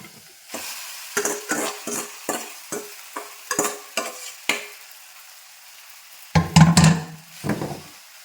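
Noodles are stirred and tossed in a pan: a run of scraping, clattering strokes, then a louder burst of sizzling and tossing near the end.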